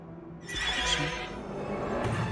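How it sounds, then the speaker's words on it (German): In a hidden-object video game, a horse lets out a single loud whinny with a wavering, high neigh, followed by faint hoof clopping under low game ambience. "jetzt brauchen wir noch das Pferd"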